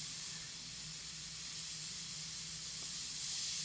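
An airbrush spraying paint onto a realistic cat painting gives a continuous close airy hiss at an even level, with no pauses and no talk.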